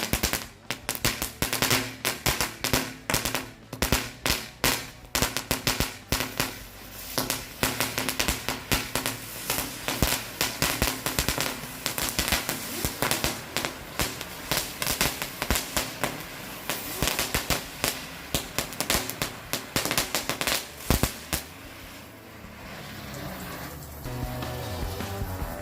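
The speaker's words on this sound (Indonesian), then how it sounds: "Mercon gangsing 2 pak sekaligus." Two packs of spinning firecrackers (mercon gangsing) go off together on New Year's Eve, a long, loud stream of rapid cracks and pops that rattles on for over twenty seconds before thinning out.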